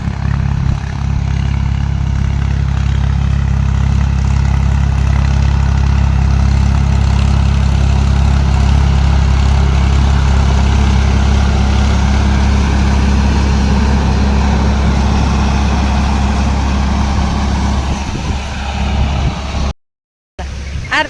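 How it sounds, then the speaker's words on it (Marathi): A farm tractor engine runs continuously near a pomegranate orchard for pesticide spraying, a loud, steady low diesel drone with a constant throb, close by, holding unchanged for the whole stretch before a brief cutout near the end. "आलं ट्रॅक्टर."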